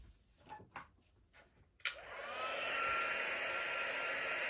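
A heat gun switches on while embossing a rubber-stamped image with embossing powder, giving a steady, close blowing whir that follows a few soft taps and handling noises.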